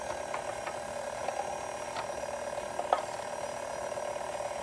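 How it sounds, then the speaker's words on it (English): Electric mixer beating banana cake batter at a slowed speed, a steady mechanical whir with faint rattling clicks running evenly throughout, moderately close and alone. "I am going to slow down the mixer just a little bit."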